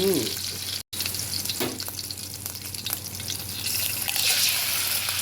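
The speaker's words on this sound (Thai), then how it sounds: "ผัดหมูลูกชิ้นครับ" Pork meatballs are stir-fried in a pan for fried rice, producing a continuous close sizzle with stirring scrapes and a momentary dropout near the start.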